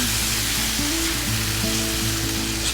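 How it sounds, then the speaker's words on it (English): Tomato gravy being stirred in a hot pan gives a steady, close sizzle, with a soft tonal background running underneath throughout. "Just keep stirring, stir all that in."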